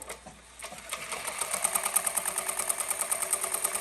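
Embroidery machine stitching a small purse and trimming a jump stitch: a steady fast mechanical chatter with regular clicking pulses that builds after a quieter start, close and alone.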